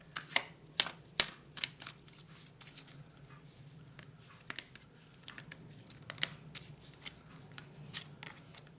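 Tarot cards are shuffled close up and fairly quiet, with crisp riffling bursts and soft slaps at the start, then scattered lighter rustles and taps.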